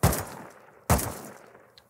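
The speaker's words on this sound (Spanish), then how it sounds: "Son, que son, son 4 o 5 tiros de AK" Two sharp AK rifle shots in the survival video game Rust, one at the start and another just under a second later, each a loud crack with a decaying tail, followed by a faint click.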